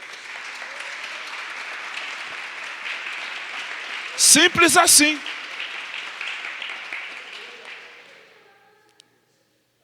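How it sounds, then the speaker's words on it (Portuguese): Congregation applause at a church discipleship service, a broad steady wash of many hands clapping that fades out over several seconds, broken by a brief loud burst of speech in the middle. "Dê uma salva de palmas para Jesus."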